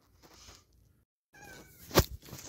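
A cat lets out a single loud, close meow after a quiet pause, with faint room noise around it and soft rustling before.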